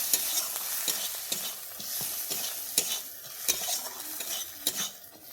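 Fish roe stir-fries in a pan over a soft, steady sizzle, with a spatula scraping and knocking against the metal in repeated strokes, close and clear.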